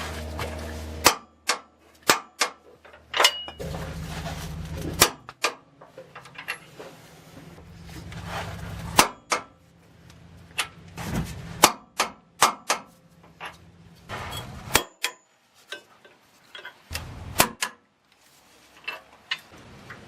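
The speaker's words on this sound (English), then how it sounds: "And now we'll go ahead and torque it down." On a Ram 2500 radius arm install, a torque wrench tightens bolts with a series of sharp, loud clicks and clanks. The clicks are spaced irregularly over twenty seconds, with quieter stretches of handling noise and a low hum between them.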